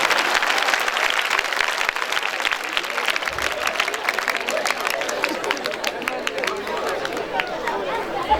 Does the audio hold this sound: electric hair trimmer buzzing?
no